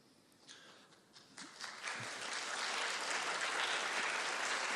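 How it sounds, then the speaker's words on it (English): Audience applause at a Pecha Kucha conference session, starting as scattered claps and swelling within two seconds into steady, dense clapping from a sizable crowd that continues to the end. "Pecha Kucha doesn't take applause into account, but I'll let you go with that one."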